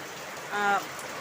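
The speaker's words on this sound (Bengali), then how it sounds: "দেখো বাইরে কী ধরে বৃষ্টি পড়ছে" Heavy rain pours down outside a kitchen as a constant even hiss of drops, fairly distant, with a short voiced sound rising briefly over it midway.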